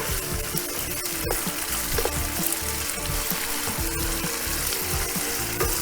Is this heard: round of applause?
no